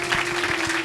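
Loud, continuous clapping from a church congregation during an evangelistic gathering, with many hands in a thick roar over a steady held organ-like tone.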